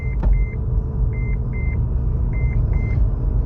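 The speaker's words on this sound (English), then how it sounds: "You might hear a beeping sound." Repeated electronic warning beeps in short pairs sound over the steady rumble of a running 2004–2008 Acura TL engine during rear brake work.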